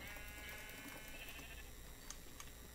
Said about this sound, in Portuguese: É ovelha.